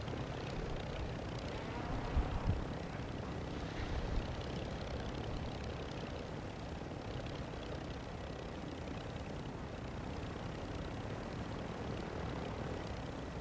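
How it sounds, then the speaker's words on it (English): Helicopter in a video game, heard as a steady, dense engine and rotor rumble that holds at an even level throughout, with a couple of slightly louder thumps early on and no voices. "He's getting on the helicopter now."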